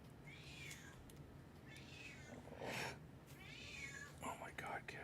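A cat meows quietly indoors, giving three drawn-out, rising and falling meows spaced a couple of seconds apart over a low background hiss.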